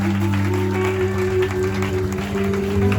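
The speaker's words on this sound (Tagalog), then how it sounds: "malakas po na palakpak sa Panginoon." Church congregation clapping during a worship service, a steady mass of applause under sustained organ or keyboard tones, loud and continuous.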